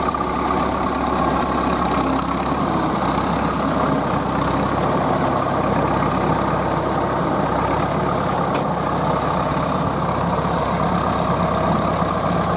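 A restored vintage Fiat 70R wheeled tractor idles steadily nearby at an outdoor ploughing festival, its engine producing a continuous low rumble that stays even throughout, with no talking over it.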